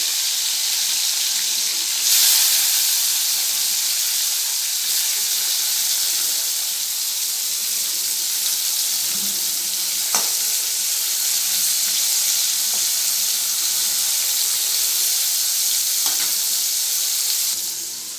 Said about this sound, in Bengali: তেল গরম হয়ে গেছে তো এবার উচ্ছেগুলো ছেড়ে দেব প্রথমে উচ্ছেগুলোই আগে ভেজে নেব